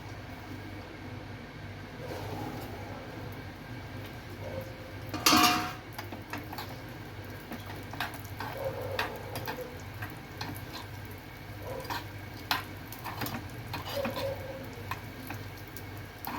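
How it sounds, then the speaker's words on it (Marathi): Crushed cashews and almonds are tipped into melted ghee and stirred, a soft steady sizzle with one louder rattling burst and light, scattered spoon taps against the pan. "जेव्हा घी मेल्ट होईल ना ह्याच्यामध्ये आपल्याला जे आपण काजू बदाम क्रश केलेत ना ते टाकायचे"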